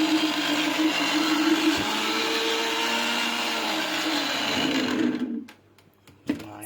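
A kitchen mixer grinds two large tomatoes into paste for fish curry, a steady loud whirring motor hum that runs continuously, then cuts off near the end with a brief clunk.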